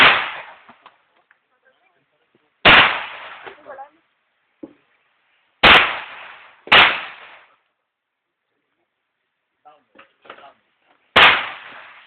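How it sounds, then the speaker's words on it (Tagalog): Sharp gunshots crack at a firing range following a firing command, four to five separate reports spaced a few seconds apart, each with a short decaying echo, with faint background talk between them. "Commence firing."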